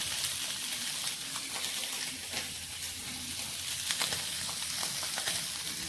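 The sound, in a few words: potatoes frying in oil in a wok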